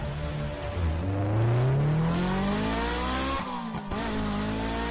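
A car accelerates hard, its engine revving upward in a rising whine close by, then drops and swells again with a brief tyre-squeal edge, loud and alone without talk.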